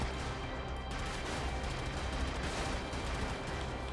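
Larger and smaller cannons fire continuously in the video game Brigador, a dense, loud, unbroken barrage of blasts and crashes with no pauses and no speech.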